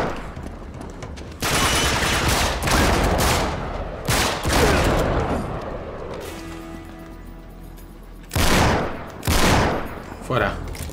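Heavy gunfire erupts in the video game Uncharted 3, with loud, close bursts of automatic fire and single shots coming in clusters, separated by brief lulls.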